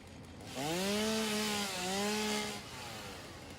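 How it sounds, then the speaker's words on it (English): A chainsaw cuts through something in the game Satisfactory, a steady, close, harmonic whine that rises, dips briefly, and then fades to a softer hum. "I can even just get rid of this, right? With the chainsaw?"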